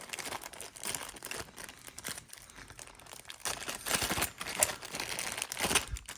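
Crinkly plastic and paper packaging from a boxed air die grinder rustles and crumples in close, irregular bursts as it is unwrapped, growing busier toward the end.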